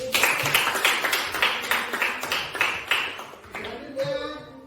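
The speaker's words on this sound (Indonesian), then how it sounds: "tepuk tangan untuk temannya." A classroom group claps together for classmates during a poetry presentation session, a fairly rhythmic burst of synchronized hand claps that fades near the end, with a few faint voices underneath.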